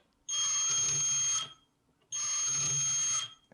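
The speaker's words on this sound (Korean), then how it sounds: "이렇게 터치 센서를 터치하게 되면 LED에도 불이 들어오고 부저에서도 소리가 나죠" Two long piezo buzzer tones triggered by a touch sensor on a coding robot, each about a second long, sounding alone with a short pause between them, shrill and steady.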